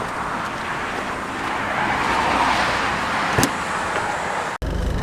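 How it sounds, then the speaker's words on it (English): A Honda Civic Si daily driver with 82,000 miles heard from inside while driving, a steady broadband engine and road roar that swells slightly, with a brief click near the end. "Right now I'm going to take him for a little spin in the daily driver"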